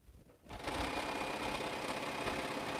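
A sewing machine stitches quilt block pieces, starting after a brief quiet moment and then running at a steady, continuous whir close by with no talking.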